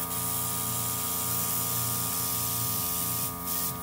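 Steady Dinair airbrush spray hissing continuously up close, a broad even hiss with a brief dip near the end.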